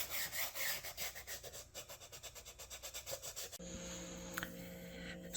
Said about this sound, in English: So we need to adjust our angle and sand a bevel into it.